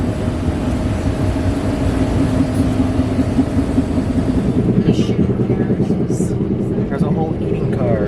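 A continuous low rumble and rattle fills the bistro car of a moving Talgo Cascades train, loud and steady throughout while someone talks over it.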